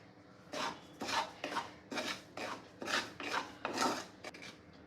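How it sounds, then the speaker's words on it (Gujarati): Barnyard millet (moraiyo) dry roasting in a pan for a Gujarati fasting thali, with about eight distinct gritty scraping strokes of a spoon stirring the grains, close by, evenly paced, no voices. "એ રીતે મોરૈયું પણ થોડું શેકી લઈશું"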